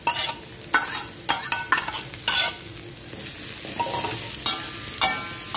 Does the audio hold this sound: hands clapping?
no